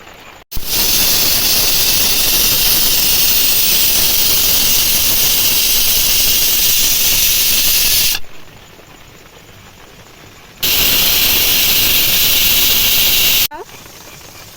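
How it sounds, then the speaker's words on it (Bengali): A pressure cooker set on a clay stove hisses steam in two long, loud, steady blasts, the first lasting several seconds before a quieter gap, then a shorter second burst. "প্রেশার কুকারটা আমি উনুনেই বসাবো"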